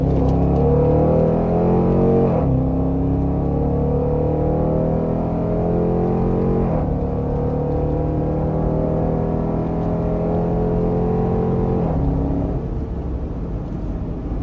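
A Dodge Durango R/T SUV with a HEMI V8 revs hard and loud through a series of downshifts. Its engine note climbs and steps through about three distinct blips, with no talking.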